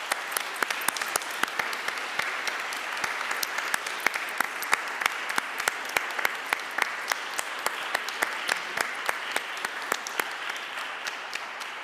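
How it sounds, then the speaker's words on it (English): An audience at a university Veterans Day service claps in a long, steady round of applause with distinct sharp claps throughout, and no voices over it. "Let us all give a round of applause for all of our military and veterans"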